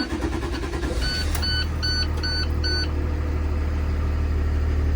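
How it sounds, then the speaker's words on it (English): A school bus engine cranks and starts, a rising mechanical rumble settling into a steady low idle, while a series of short electronic warning beeps sounds near the start. "I'm gonna start the bus"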